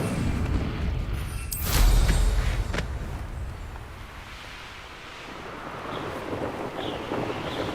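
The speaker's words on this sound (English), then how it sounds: "Incendio!" The Incendio fire spell cast in Hogwarts Legacy, a loud whooshing burst with a deep boom, then a rushing, roaring tail that fades and swells again with no speech.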